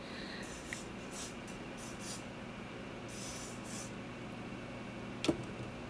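Several soft hissing bursts of hairspray from an aerosol can sprayed onto hair, spaced irregularly, close by over a faint steady background hum.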